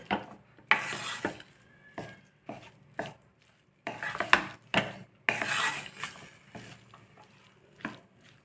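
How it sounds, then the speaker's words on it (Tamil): Rajma biryani is slowly stirred in a pot with the stove turned off. Close scraping and clinking of a spoon against the metal comes in irregular strokes with short gaps between them. "ஸ்டவ் ஆஃப் பண்ணிவிட்டு இப்போது மெதுவாக கிளறி கொடுக்கலாம்"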